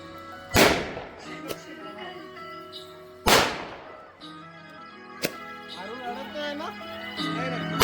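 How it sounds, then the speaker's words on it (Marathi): Firecrackers burst at a family's grand welcome, two loud sharp bangs several seconds apart plus a smaller crack, amid ongoing chatter and a voice. "इकडे फटाके फोडणं चालूच होतं"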